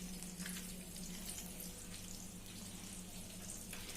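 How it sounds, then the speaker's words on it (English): Marinated brinjal fries in a home kitchen, giving a steady close sizzle and bubbling hiss with faint crackles throughout, fairly quiet and without talk. "I am currently frying them at the kitchen"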